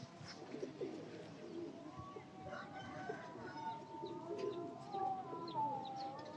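Breeder pigeons of Raja Jamil's breed from Muzaffarabad, Rawalpindi coo steadily, with soft repeated calls close by over a busy loft background of other birds and faint clucking.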